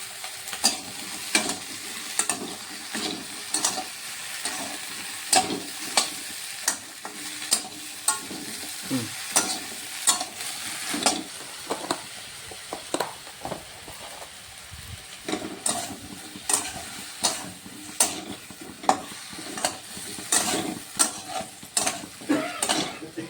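Lady's finger with masala being sautéed in a pan for a Bengali chochori, steady frying sizzle under rapid, repeated spatula scrapes and clacks, close and busy throughout.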